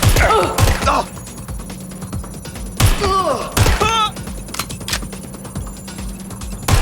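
Gunfire in the video game Watch Dogs: Legion, several sharp cracking shots at irregular intervals over a busy game soundscape, with brief whistling effects between bursts.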